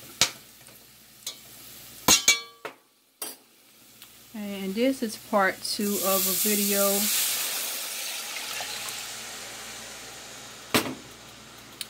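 Water poured into browning onion gravy thickened with flour in a pan, a rush of hissing sizzle after a few utensil clinks, with someone talking briefly before the pour.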